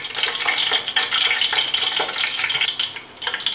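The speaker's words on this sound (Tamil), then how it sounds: "இப்போ பட்டை கிராம்பு பொரிஞ்சிச்சு" Cinnamon sticks and cloves fry in a pan of ghee and oil for a biryani, giving a steady dense sizzle that stays loud and continuous throughout with no talking.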